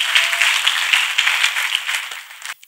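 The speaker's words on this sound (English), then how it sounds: "Let us clap for Master Jesus." An audience claps together in steady broadband applause for about two and a half seconds, then the clapping stops abruptly, leaving near silence.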